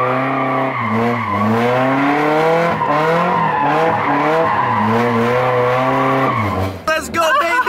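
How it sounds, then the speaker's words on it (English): Car with a welded differential doing a donut or burnout, a loud continuous engine whine rising and falling in pitch with tire noise throughout, ending in a rough burst. "You thought I was gonna make a welded diff video and not do at least like a donut or a burnout?"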